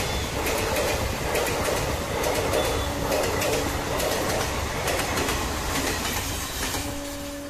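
The up Hool Express from Howrah to Suri rushes past close by, a loud continuous rumble of wheels with rhythmic clickety-clack from the rail joints and brief faint squeals near the end.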